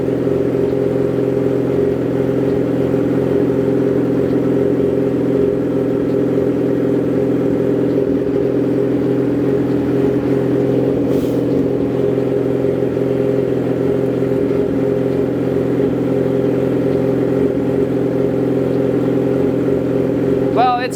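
A 2008 Yamaha R6 motorcycle engine runs steadily and loudly throughout, a sustained even drone with no clear rise or fall in pitch.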